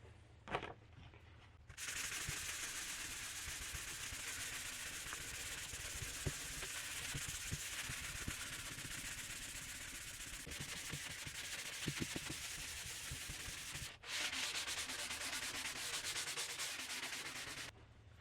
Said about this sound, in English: I get 320 grit sandpaper.